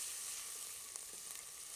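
Close, steady sizzling of onions frying in a hot pan, with faint crackles.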